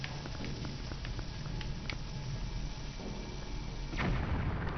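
Bomb action in Zelda Twilight Princess HD: a steady game soundscape with scattered small taps and pops, then a louder thudding burst near the end as the thrown bomb goes off.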